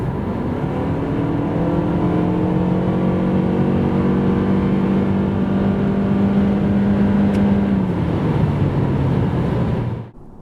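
Loud, close engine droning as a 2026 Toyota Camry 2.5 (230 hp) accelerates from 90 to 140 km/h, its pitch rising smoothly before easing off and cutting out abruptly at the end.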